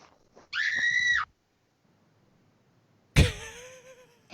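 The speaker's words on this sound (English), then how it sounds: "I like the screaming." Two loud, piercing screams separated by a silent gap; the first is a sustained high shriek and the second a sharper wail that trails off.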